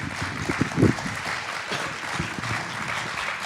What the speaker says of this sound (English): please try to keep your applause down to a minimum